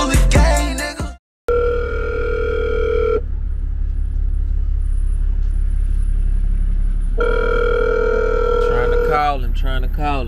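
Ringback tone of an outgoing phone call that goes unanswered: two long, steady electronic rings separated by a quiet gap, with a voice before and after.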